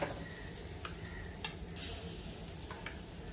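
Rava appe batter sizzles steadily in an appe pan, a soft continuous frying hiss with a few faint ticks and clicks of a spoon, close and quiet with no talking.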